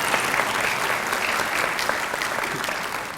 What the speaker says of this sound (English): let's give him a big round of applause for everything